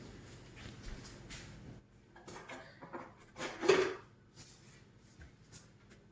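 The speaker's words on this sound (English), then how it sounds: "So I'm going to get a big spoon and just scrape it off and trash it" A big spoon scraping residue off canned chicken, a few soft irregular scrapes and clinks of metal on the jar or pan, one louder scrape near the middle, close by and otherwise quiet.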